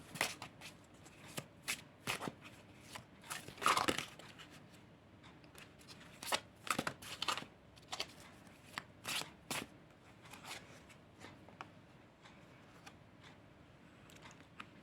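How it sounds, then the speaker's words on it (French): Tarot cards being shuffled by hand in a series of crisp riffling bursts and soft slaps, close and fairly quiet, with short pauses between shuffles and no talking. "Alors je vais battre les cartes tout de suite."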